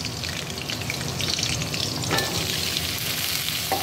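Potatoes frying in hot oil with green chilli, a dense, steady sizzle up close, broken by occasional stirring scrapes and clinks of a utensil in the pan.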